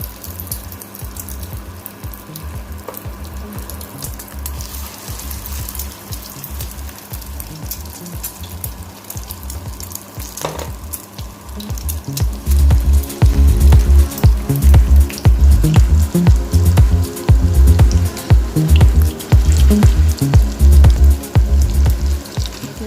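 Egg-dipped potato tikki kebabs fry in hot oil, a steady crackling sizzle that grows louder and denser about halfway through, with sharp pops and spatters close up.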